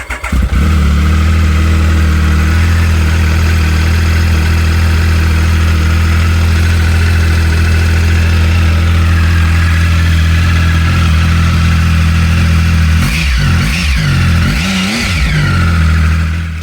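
A Triumph Speed Triple motorcycle engine, fitted with a K&N air filter, idles loudly and steadily with a deep, throbbing rumble, rising in a couple of quick revs near the end.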